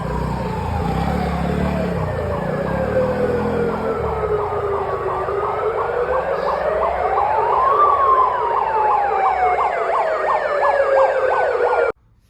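A loud siren wails continuously, sweeping up and down in pitch, then cuts off abruptly at the end, from a newly installed police-style siren on a Mahindra Scorpio Classic.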